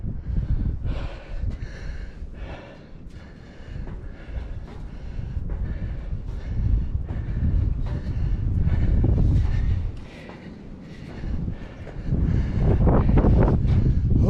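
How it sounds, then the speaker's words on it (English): Strong wind blows outdoors in a state park, heavy low rumbling gusts buffeting the microphone in waves, with faint breathing and voices in between. "Oh, it's windy."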